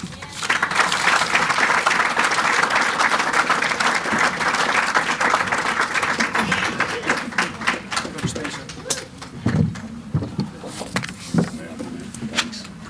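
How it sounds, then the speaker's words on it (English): Standing ovation at a junior college basketball coaches' hall of fame banquet, dense sustained clapping filling the hall for several seconds, then thinning to scattered claps and voices before trailing off. "that guy deserves a big standing ovation"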